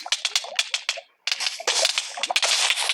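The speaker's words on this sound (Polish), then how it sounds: "No i jeszcze teraz mi przyjdzie strzelać." Rapid bursts of gunfire in the Minecraft video game, sharp repeated cracks in quick clusters with a brief gap of silence, loud and close with no talking.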